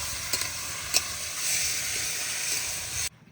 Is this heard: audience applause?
no